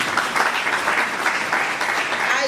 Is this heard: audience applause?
yes